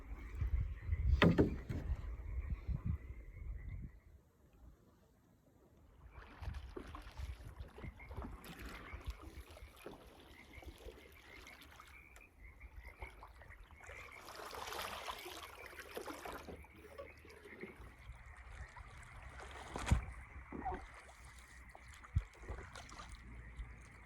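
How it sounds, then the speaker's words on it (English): A canoe or kayak paddled on water alongside otters gives soft splashes and strokes with water lapping against the hull, mostly quiet and close over a faint ambient hum, with one sharper knock partway through. "we're paddling with the otters over here today"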